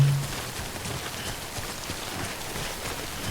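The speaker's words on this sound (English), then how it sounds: "Let me see if there's any place we can kind of chill out for the rain to end." Steady rain falls in Death Stranding, a dense, even patter of drops on surfaces at moderate volume with no talking.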